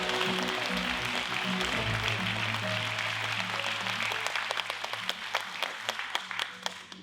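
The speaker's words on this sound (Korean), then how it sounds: "큰 울림의 박수로 오늘 행사를 시작해" An audience at an autumn poetry recital concert claps, a full burst of applause that starts thick and steady, then thins to scattered individual claps as it fades.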